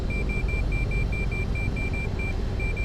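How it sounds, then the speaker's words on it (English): Cockpit warning beeps from a Cessna 152 in the X-Plane 12 flight simulator, a regular train of short high tones repeating about every quarter second over a loud steady engine drone. "I'm gonna have to turn off that beeping"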